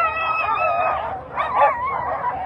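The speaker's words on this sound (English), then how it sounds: "Those lead dogs are excited." Excited lead sled dogs at the start of a 25-mile race at the Fur Rondy Open World Championship howl and yip in high, wavering bursts, close and loud, with a short lull before the yelping picks up again.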